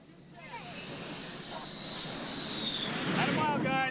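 F-14 Tomcat jet on approach to an aircraft carrier in the Persian Gulf, a steady jet whine and roar building louder, with a voice talking over it on deck.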